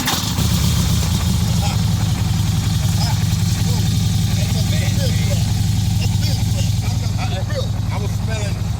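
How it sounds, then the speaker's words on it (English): A quad bike engine runs loud and close with a steady, throaty exhaust rumble throughout, while people talk over it. "I hear your bike sounding all tough"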